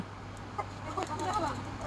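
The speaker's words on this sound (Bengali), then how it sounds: "এগুলা সবই বাহিরের মুরগি। তো এগুলো রানিং ডিম দিচ্ছে।" Foreign-breed laying hens on a farm give a few soft, quiet clucks in a short, faint burst.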